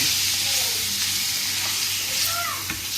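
Marinated chicken cooks in a pan with a continuous, fairly loud sizzling hiss, joined by a few faint stirring scrapes.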